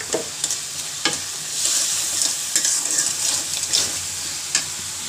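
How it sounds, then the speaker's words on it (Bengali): Vegetable curry is sautéed in a pan, making a loud, close sizzle with repeated scraping stirs and a few light utensil clicks against the pan. No one talks. "তরকারি দিয়ে দিছে, দিয়ে দিয়ে আমি এখন এর কষিয়ে নেবো ভালো করে"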